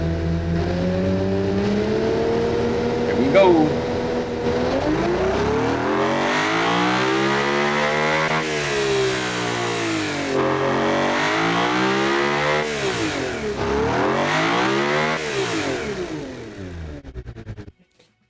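Naturally aspirated engine built in the Automation car-design game, revving hard through repeated rising and falling sweeps toward a 9,500 rpm redline, loud and continuous before cutting off at the end; a voice speaks briefly at the start.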